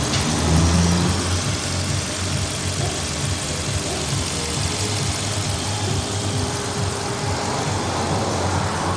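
A new CFNA car engine idles steadily and loudly at close range, a continuous low rumble with a faint knocking texture running for the whole stretch, with no voices.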